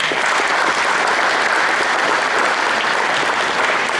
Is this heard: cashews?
no